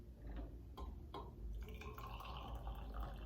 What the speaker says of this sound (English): Okay, I'm gonna try to pour it out for our first steeping.